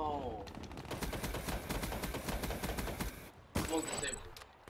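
Rapid automatic gunfire in a multiplayer shooter video game, a steady loud stream of shots for about three seconds, then a sharp blast and scattered game effects.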